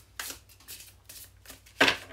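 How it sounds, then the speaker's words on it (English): Tarot cards being shuffled by hand, three quick riffling bursts close up, the last one loudest, with brief pauses between them. "So I'm going to actually shuffle just a little bit more."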